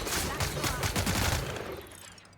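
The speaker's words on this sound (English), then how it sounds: "Hopefully no one else heard that gunshot." A burst of rapid gunfire rattles in The Outer Worlds, a dense, loud volley lasting over a second before it fades out.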